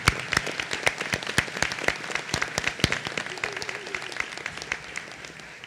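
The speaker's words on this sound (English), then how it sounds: "Please join me in a round of applause for Ivan and all members of the Order of the" A modest group applauds at a commencement ceremony, scattered distinct claps forming an uneven rhythm that gradually thins out, with a faint voice briefly underneath.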